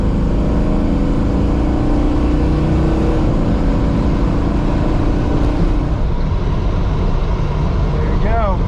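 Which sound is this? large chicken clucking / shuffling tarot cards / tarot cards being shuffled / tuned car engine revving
tuned car engine revving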